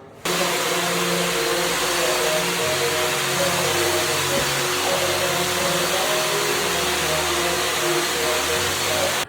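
A DeWalt cordless drywall sander works across a wall, giving a steady, loud motor whine with broadband grinding that runs continuously from start to end, without speech.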